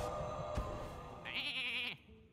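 A cartoonish sheep bleat from the card game Hearthstone rises clearly for under a second, a single wavering call sitting over a busy layer of game music and effects.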